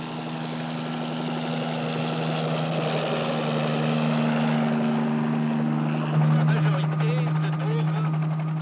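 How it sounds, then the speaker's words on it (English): A helicopter lifting off from a ship's helicopter pad drones with a steady rotor hum, rising slightly in pitch and intensity toward the end, while a voice speaks over it. "Captain Cousteau lifts off Calypso's helicopter pad"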